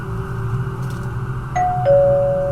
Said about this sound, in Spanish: Al momento tocaron el timbre